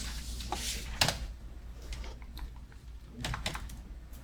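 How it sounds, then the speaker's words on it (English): Fingers type on a computer keyboard in short irregular bursts of clicking keystrokes, close and fairly quiet, with pauses between the runs of keys. "So you type this form check, FORMCHK, and then name of this check file"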